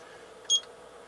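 Single short electronic timer beep, clear and moderately loud over a faint steady background hum.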